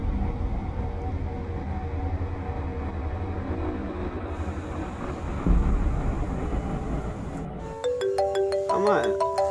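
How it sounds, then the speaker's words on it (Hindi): A phone ringtone starts near the end, a bright melodic electronic tune cutting in over a loud, steady rumbling background. "किसी का फोन आ गया भाई।"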